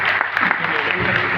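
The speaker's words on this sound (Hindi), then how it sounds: "गुजरात वाले तो ताली बजा दो" Audience clapping on request during a Hindi demo talk on a digital Ramayana, a dense, steady patter of hands sustained throughout and mixed with background voices.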